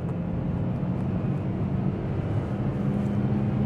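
Steady engine drone of a used Hyundai Elantra sedan with a full boot, heard from inside the cabin as it accelerates hard toward 120 km/h, a low continuous hum with road noise.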